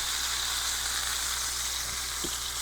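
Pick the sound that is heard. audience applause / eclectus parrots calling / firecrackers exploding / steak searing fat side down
steak searing fat side down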